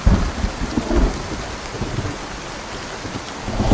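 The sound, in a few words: heavy tropical storm rain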